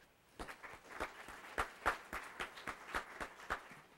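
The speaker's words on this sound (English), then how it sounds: "So a small round of applause for Jennifer" A small lecture audience gives a brief, thin round of applause: a dozen or so distinct, fairly quiet claps in a loose, uneven rhythm.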